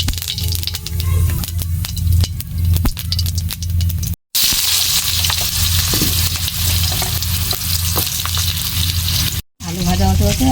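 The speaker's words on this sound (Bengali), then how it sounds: "গরম হয়ে গেছে, এবার জিরে দিয়ে দেবো।" Cumin seeds dropped into hot oil in a home kitchen while preparing a Bengali fish roe curry, giving a loud, close, continuous sizzle with stirring scrapes and brief breaks.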